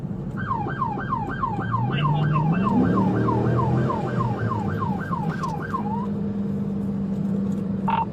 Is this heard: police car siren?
yes